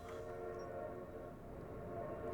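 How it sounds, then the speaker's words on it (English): A steam train's whistle blows steadily in an Outer Wilds mod video game, a sustained tonal note over a faint rolling rumble, fairly quiet and alone. "it's literally blowing the whistle"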